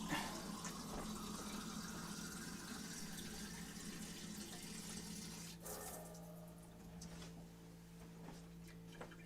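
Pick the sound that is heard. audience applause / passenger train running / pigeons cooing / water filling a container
water filling a container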